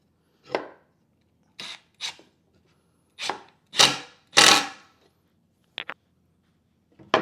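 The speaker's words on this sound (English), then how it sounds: "And then we are going to shoot a screw in there, get this one started." A power driver sinks a screw into a countersunk hole in wood while building a GoPed stand, heard as a run of short, close, sharp bursts with brief pauses between them.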